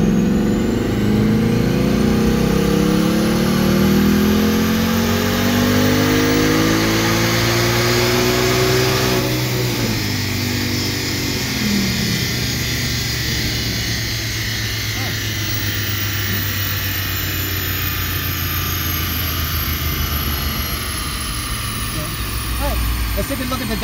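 Supercharged 2019 Ford Mustang GT with a Vortech V3 blower, stock catalytic converters and pump gas, loud and sustained on dyno rollers, engine and whine climbing in pitch, then dropping off as the revs fall after the pull.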